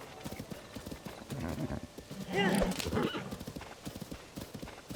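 A horse in Zelda Tears of the Kingdom neighs in a brief whinny over a steady run of clip-clopping hooves, moderately faint, with game sounds mixed in.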